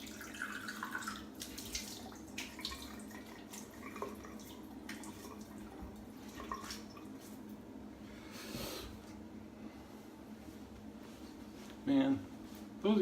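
Water runs from a tap as alum is rinsed off after a shave, a soft, continuous splashing and trickling in a sink, quiet and steady with occasional louder spatters.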